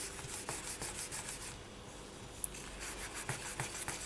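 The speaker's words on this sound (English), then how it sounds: "I'm going to start with a 400 polishing paper." Rapid back-and-forth rasping strokes of 400-grit polishing paper on a small polymer clay piece, close up, pausing briefly midway before resuming in short bursts.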